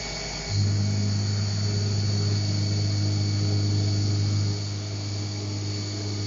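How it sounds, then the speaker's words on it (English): Haas CNC machine spindle spinning up with a steady high whine and low hum while cutting gantry sides, a constant close mechanical drone with a slight drop in level near the end. "And just cycle start. The spindle will start."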